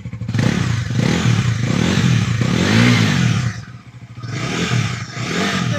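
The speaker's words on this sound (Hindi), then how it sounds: "इंजन साउंड सुन लीजिए।" An NS400 motorcycle engine is revved repeatedly, loud close blips that rise and fall in pitch, with a brief dip near idle before it picks up again, and no talking.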